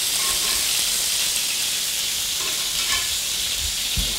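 Onions fry on a hot griddle beside a steak with pan drippings, producing a loud continuous sizzle with occasional scraping stirs close by.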